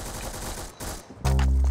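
Gunfire in the Roblox game Arsenal: rapid repeated shots in quick bursts, then a loud, sustained stream of automatic fire filling the last half second, with no talking.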